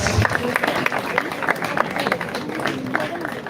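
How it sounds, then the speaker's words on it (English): Audience applause at a school speech competition, a dense steady patter of many hands clapping for the whole stretch, fairly loud and close, with faint crowd murmur mixed in. "Please give her a round of applause."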